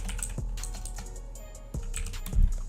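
Typing on a computer keyboard: a handful of distinct, crisp key clicks spaced irregularly, close and fairly quiet, with a slightly heavier keystroke near the end.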